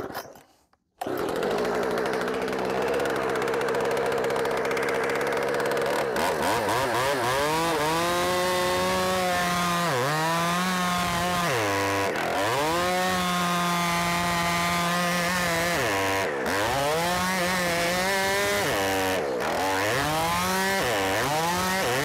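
A chainsaw cuts into oak with a loud, close engine drone that rises and dips in pitch as the chain bites and eases off the log, briefly dropping out several times.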